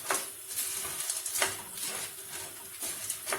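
Pasta is stirred and toasted in melting butter in a pot, with a soft sizzle beneath repeated scraping and clinking strokes of a utensil every second or so, heard close.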